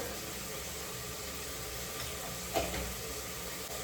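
Turmeric and basic spices dropped into a sizzling pan, a steady broad hiss of frying oil with one brief louder stir or clatter partway through, no voices.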